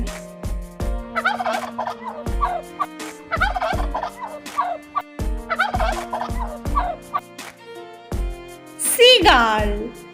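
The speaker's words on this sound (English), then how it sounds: "Turkey. Turkey sound name gobble." Repeated bursts of turkey gobbling, rapid warbling calls in several rounds with short pauses, ending in a higher, louder call; a voice may speak briefly between them.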